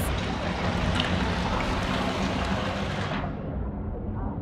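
Rushing water in the video game Trine 5, a loud, dense wash of splashing and churning that cuts off sharply after about three seconds, leaving a softer low rumble.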